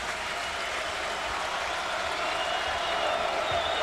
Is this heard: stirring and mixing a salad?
no